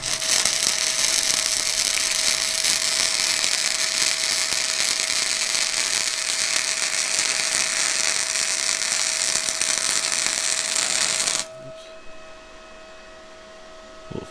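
An Arccaptain MP250 welder runs flux core wire, making a loud steady crackling sizzle with a constant hum for about eleven seconds before the arc stops abruptly, leaving a faint background hum.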